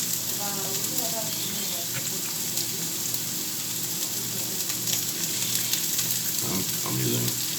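Food frying in sunflower oil in a home kitchen pan, a steady bright sizzle with occasional stirring clatter, close and continuous, with a brief spell of running water near the end.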